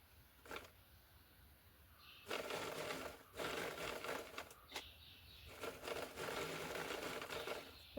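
Sewing machine stitching a pocket onto a garment, heard as bursts of mechanical whirring and clatter starting and stopping across the stretch, close by and fairly quiet, with no talk.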